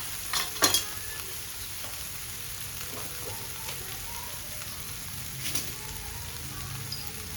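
Steady sizzling of spices such as turmeric, asafoetida and coriander-cumin powder sautéing in a pan, with a few sharp stirring clinks and scrapes near the start and again later.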